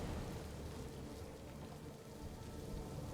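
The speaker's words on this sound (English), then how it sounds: "Wow, and it's raining." Rain falls in the video game Mass Effect 2, a faint, steady, hissing patter that continues evenly without any break.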